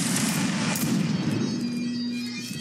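Rolling musket volley from a line of infantry in Mount and Blade: Napoleonic Wars, a dense crackle of overlapping gunshots that sustains at steady loudness across the whole stretch, with no voices.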